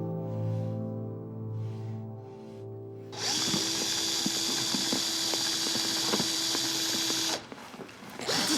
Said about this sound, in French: avec ta perceuse, tu peux essayer de faire moins de bruit